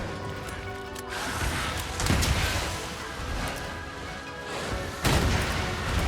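Suction bomb blasts in Monster Hunter Rise: Sunbreak, two heavy booming explosions a few seconds apart, loud and close, over a dense roar of battle noise.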